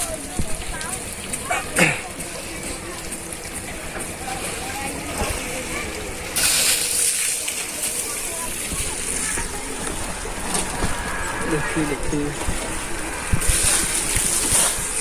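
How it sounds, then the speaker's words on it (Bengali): At a traditional fair in Banaripara, Barisal, an elephant sprays water over its body with its trunk, making repeated splashing and sloshing bursts of varying loudness while people talk throughout. "উপরে থেকেই গোসল করে সুরের মাধ্যমে, পানি সারা শরীরে পানি দিতেছে"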